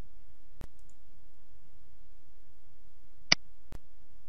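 A computer mouse clicks three times during a D2L Brightspace file-management demo, sharp isolated taps spaced more than a second apart over near silence.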